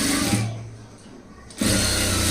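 A sewing machine runs a double seam on a front-gap blouse. Its fast, even whir of stitching stops for about a second, then starts again at full speed.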